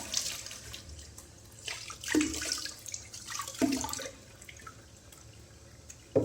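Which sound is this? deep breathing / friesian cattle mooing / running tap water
running tap water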